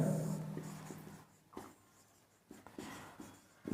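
Marker or chalk strokes on a board during a Hindi biology lesson on reproduction in organisms, with faint intermittent scratches and taps close by, alone and without talk.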